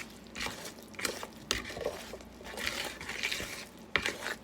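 A dough whisk stirs cornbread batter in a bowl, giving soft, wet squishing and scraping strokes in an irregular rhythm with occasional knocks against the bowl, close and fairly quiet.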